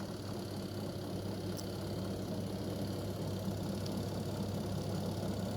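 The motor of a Sharp twin-tub washing machine, being checked for a fault, runs with a steady low hum, constant and fairly quiet, with a faint whine above it and no talk.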